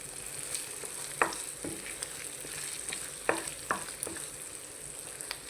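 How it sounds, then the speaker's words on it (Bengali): Fish roe frying in a pan, a steady close sizzle with occasional scrapes and stirring clicks over the hiss. "ভালোভাবে ভেজে নিব।"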